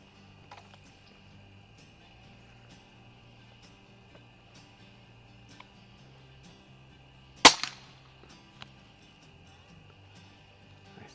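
Air rifle with a c88 Machining FX barrel kit on a Notos build, firing 2207 pellets at a splatter burst target: one sharp, loud shot with a brief ring, a few faint ticks and quiet hiss around it.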